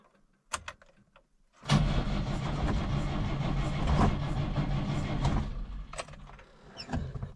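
A Moskvich IZh-412 that has sat idle for ten years, with petrol poured into the carburettor and a suspected spark fault, gets a third start attempt: a click, then about four seconds of steady, loud cranking that never catches.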